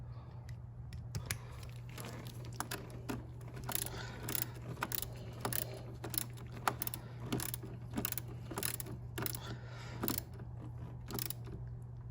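A ratchet tightens a car battery terminal in quick bursts of clicking, close and fairly faint, over a steady low hum, with no talking.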